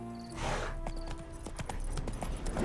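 Horse hooves clip-clopping at a steady gait in The Witcher 3, a run of distinct, fairly close hoof strikes over faint background game sound, with no voices.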